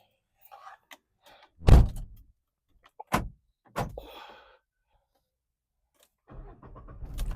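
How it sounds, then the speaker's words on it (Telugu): A 2020 Renault Kwid Climber automatic petrol car with about 54,800 km gives a few sharp thumps and clicks, then its engine catches near the end and settles into a low running hum. "కార్ ఒకటే సెల్ఫ్ లో స్టార్ట్ అయిపోయింది, ఎలాంటి స్టార్టింగ్ ట్రబుల్ అయితే లేదు"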